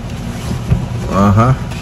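Steady wind noise roars against the microphone outdoors on a sunny day in Canada, with a voice speaking briefly partway through.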